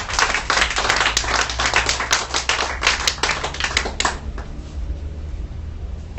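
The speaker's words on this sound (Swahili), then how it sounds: "Hebu nisikie makofi kwa ajili ya Bwana." A church congregation claps for the Lord during a Sunday Bible study service, many hands in lively irregular clapping, fairly close, for about four seconds before fading to a quieter room murmur.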